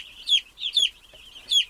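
A young broiler chick peeps loudly and close up, three shrill, high calls spaced evenly, with no other sound between them.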